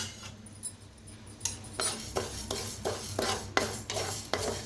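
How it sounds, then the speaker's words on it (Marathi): Urad dal being dry-roasted in a pan while being stirred, with a quiet start followed by repeated scraping and rattling strokes of a spoon at an irregular rhythm, close but fairly soft. "इथं उडदाची डाळ घेतलेली आहे, त्याला बी भाजून घेऊया"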